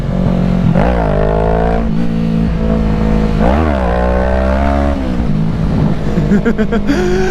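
A sport motorcycle engine revving under a rider on the street, loud and close, rising and falling through two strong pulls of acceleration with a dip between them and a changing note near the end.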